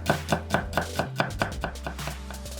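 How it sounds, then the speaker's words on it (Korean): Four whole garlic cloves are minced with a knife on a cutting board, producing a quick series of about a dozen sharp, close chops in a steady rhythm with no talking. "통마늘 4개는 다져주고"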